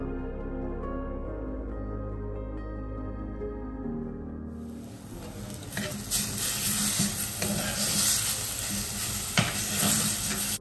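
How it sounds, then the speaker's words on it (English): Chopped ginger, garlic and onion sizzle loudly in hot oil with fenugreek seeds as they are stirred, a bright close frying hiss that follows a quieter, tonal opening. "Now we have to saute this until it will turn slightly golden in color."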